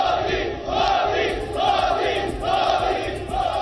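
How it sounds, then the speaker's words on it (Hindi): A crowd outside an airport chanting Modi slogans, loud rhythmic massed voices rising and falling in repeated waves, close and steady throughout. "बाहर खड़े लोगों की भीड़ ने मोदी मोदी नाम के नारे लगाने शुरू"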